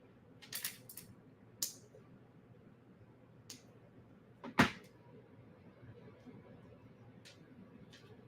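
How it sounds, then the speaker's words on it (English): Jewelry cutters snip through a small chain loop during a jewelry-making demonstration, a single sharp metallic click standing out among a few faint ticks and taps over a quiet room. "So I'm going to come in and I'm going to cut at the loop here."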